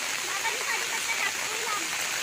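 Heavy monsoon rain near a water tank on a jungle hillside at Gorai falls as a dense, continuous broadband wash, steady and close with no breaks.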